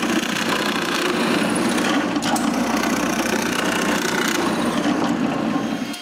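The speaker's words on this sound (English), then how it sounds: "I'll drill both squares at the same time." A drill bores holes through two wooden squares held together with double-stick tape, giving a steady, continuous whirring grind that stays at an even level throughout.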